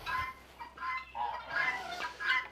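Farm fowl call in soft, repeated clucks and honking notes at a moderate distance, with quiet pauses between the bursts.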